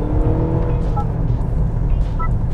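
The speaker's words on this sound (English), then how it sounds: "Honda has pumped in some faux exhaust sounds into the speakers of this car" Faux exhaust sound piped through the speakers of a 2024 Honda CR-V 2.0 RS e:HEV hybrid SUV, a steady, loud engine-like drone with a deep low rumble and some rising tonal notes, heard from inside the cabin.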